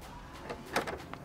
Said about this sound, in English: So as you open this up, you can see it's fiberglass, custom-made door